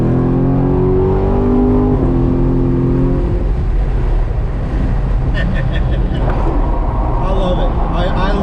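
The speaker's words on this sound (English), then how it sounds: "you guys didn't think I was gonna let you go without a full acceleration" Chevrolet Corvette C7 Grand Sport with its LT1 V8 at full acceleration, a loud continuous engine roar climbing through the gears, rising and shifting pitch with a steady exhaust drone and no gaps.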